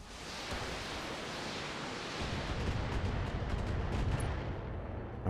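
A Gauss rifle and long-range missiles fire in the mech combat game BattleTech, a dense roaring wash of noise that swells into heavier low rumbling blasts midway, sustained and loud with no voices.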